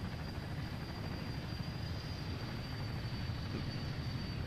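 Steady, loud, continuous helicopter rotor and engine noise, close and unbroken, with no talk over it.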